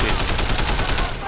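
Rapid gunfire from a weapon in the open-world action game Sleeping Dogs, a dense burst of repeated shots filling the whole moment, loud and close.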